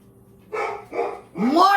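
A female pet dog barks close by in a home, three short, loud, whiny yelps with the last rising in pitch, partly overlapping a person's voice.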